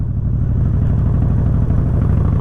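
Motorcycle engine idling or rolling slowly while parking on an early morning ride to work, a loud, close, steady rumbling putter with no pauses.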